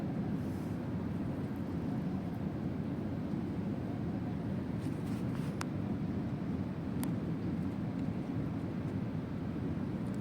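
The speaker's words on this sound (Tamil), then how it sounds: "ஸ்டார்ட் ஆயிடுச்சு ஃப்ளைட்டு" Inside a passenger plane accelerating down the runway for takeoff, a dense, steady low roar and rumble fills the cabin without pause, with no talk.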